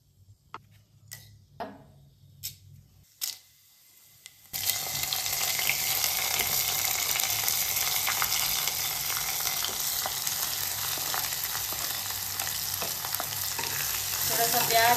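Mushrooms cooking in a clay pot, stirred with a few separate clacks and scrapes before a loud, steady sizzle of frying fills the rest, close and continuous with faint ticking stirs inside it.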